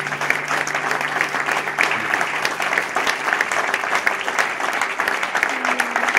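Sustained applause from a crowd at an evening religious healing service in Krapkowice, dense clapping throughout with a voice speaking faintly beneath it.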